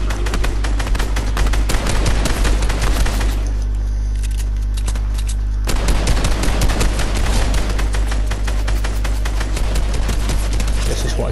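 Dense bursts of rapid automatic gunfire crackle loudly in a squad battle video game, pause briefly in the middle, then resume in fast volleys.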